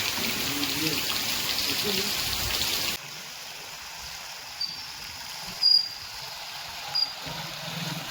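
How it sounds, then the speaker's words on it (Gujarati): Heavy monsoon rain pours down in Kutch, Gujarat, a dense steady hiss that drops abruptly to a quieter wash after about three seconds, with a few faint sharp ticks afterward. "જો ફૂલ વરસાદ છે અત્યારે."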